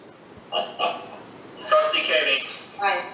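Dog barking during a village committee meeting, several yips and longer whimpering barks in a row, close and fairly loud, with some talk mixed in.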